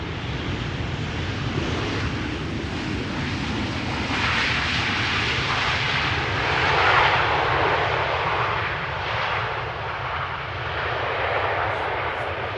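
An aircraft landing at Amsterdam Schiphol Airport, a steady, moderately loud engine roar that swells slightly midway, mixed with some wind noise and no voices.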